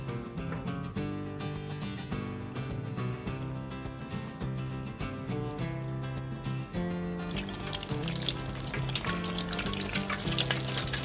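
Cheese-filled potato croquettes deep-fry in oil at about 170 degrees, a steady bubbling sizzle running under background music throughout.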